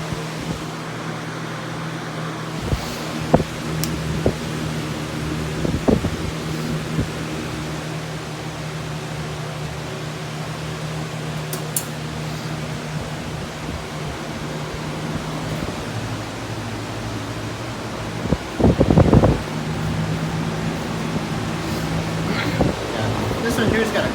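About twenty electric fans running together in a room, a dense steady whooshing roar with a low hum beneath, punctuated by occasional clicks and handling knocks; a voice speaks briefly now and then.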